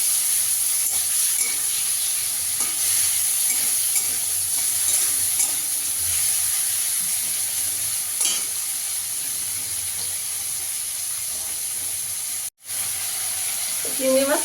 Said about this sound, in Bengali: তেলটা আমার গরম হয়ে গেছে, চিংড়ি মাছটা ভেজে নেবো আগে।